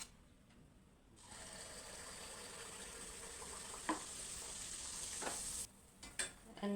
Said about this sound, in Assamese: এনেদৰে মই এটা এটাকৈ গোটেই পিঠাখিনি ভাজি ল'ম।